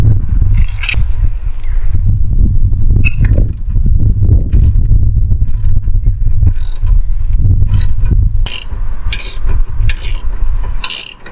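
A 15mm nut being undone on the suspension drop link of a Jaguar XKR, with a fast ratchet clicking in repeated bursts, loud and close, over a low steady rumble.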